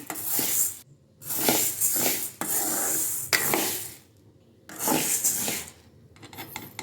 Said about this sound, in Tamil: இது ஃபர்ஸ்ட் வந்து நம்ம சிறுபயிரை வறுத்து எடுத்துக்கலாம்